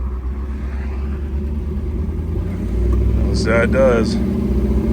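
A 1932 Ford Roadster hot rod pulling away slowly, its engine giving a steady low rumble that swells slightly midway, with someone speaking briefly over it.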